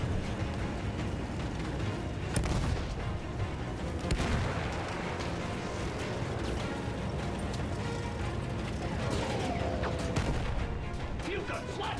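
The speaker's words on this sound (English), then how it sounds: "Field gun, flatten it." Artillery field gun fire in the video game Battlefield 1, heavy booms rolling through a dense, constant wall of battlefield noise, with voices talking over the din.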